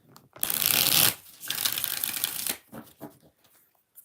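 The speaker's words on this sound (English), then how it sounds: "5 shuffles." Tarot cards are shuffled close up: a long, loud riffling burst, a brief pause, then a second softer run of shuffling that trails off into light taps and quiet.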